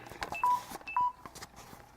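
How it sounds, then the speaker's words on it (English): A cell phone sounds its low-battery warning as two short, clear electronic beeps about half a second apart, faint and nearby, amid quiet room noise. "okay, low battery on my cell phone"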